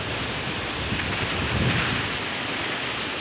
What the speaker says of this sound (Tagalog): Lumakas na yung ulan ulit.